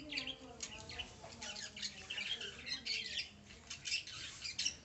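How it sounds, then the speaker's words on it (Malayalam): Week-old lovebird chicks, just out of the nest box, give repeated high, scratchy squawks and chirps close by, coming in quick irregular bursts with a faint voice in the background. "ഇത് കുഞ്ഞു കിളികളാണ്."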